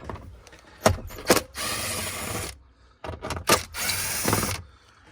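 Power driver zipping out glove box latch screws inside a 2012-2019 Ram truck, heard as two pairs of sharp clicks each followed by a steady, close whir of about a second, with quiet gaps between.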